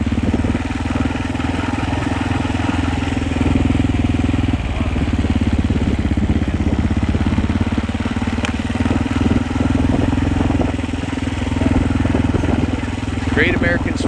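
A Honda WR 500 motocross motorcycle engine runs steadily and loudly up close in a race pit area, a continuous throbbing drone with brief crackles, while people talk over it.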